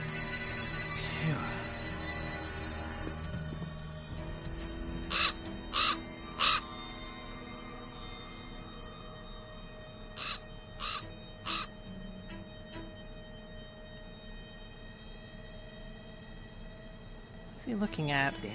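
A crow or raven caws in the video game Black Mirror 2, several sharp calls in quick groups of three and pairs, fairly clear over a low ambient hum, with a soft voice at the start.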